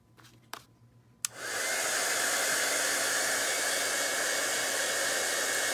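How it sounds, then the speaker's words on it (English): After a few faint clicks, a heat gun warming a stamped image with embossing powder switches on with a sharp click and then blows a loud, steady whooshing roar close by, with no one speaking. "I like to move the heat gun around so that it's not focused on any one spot"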